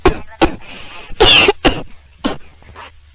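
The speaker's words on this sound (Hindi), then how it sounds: "मुझे खांसी आ रही" Several harsh coughs in quick bursts, close and loud, with short pauses between them and a throaty rasp.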